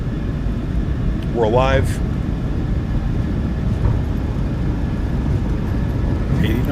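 The two engines of a PMDG 737-800 in the MSFS2024 flight simulator hold a steady low rumble at takeoff power on the runway at Anchorage, while someone speaks briefly over the drone.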